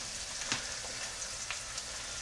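Thrive butter powder in a pan gives off a faint, steady sizzle and hiss, with a few soft scraping taps from stirring.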